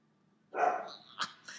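A dog gives a single sharp bark or yelp close by, followed by a short higher yip, set against a quiet background.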